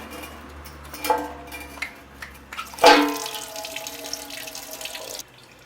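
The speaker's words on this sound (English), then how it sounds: "While the radiator's draining" Coolant drains from the opened radiator of a BMW F650GS motorcycle into a drain pan, a steady trickling and splashing of liquid with a louder gush midway before it tapers off.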